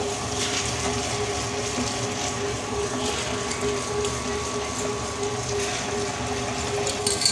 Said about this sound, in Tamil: இப்போ நம்ம கிரைண்டரை ஆன் பண்ணிவிட்டு உளுந்தம்பருப்பை போட ஆரம்பிக்கலாம்